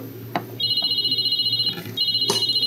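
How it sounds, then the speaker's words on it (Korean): A telephone rings indoors in repeated rapid electronic trills, two clear bursts separated by a short pause, loud and close over faint background noise. "오, 전화 온다."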